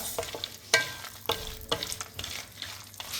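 Dry fruits frying in a pan for payasam give a steady, close sizzle, broken by several sharp scraping and clicking strokes as they are stirred.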